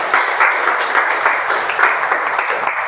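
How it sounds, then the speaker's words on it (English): A seated audience at a meeting breaks into applause, a brisk, uneven patter of many hands clapping nearby, steady for about three seconds with no speech over it. "please clap freely"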